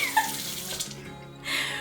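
Cold water runs from a tap into a sink, a close, fairly soft splashing flow with a few small knocks, briefly thinning out before the stream swells again.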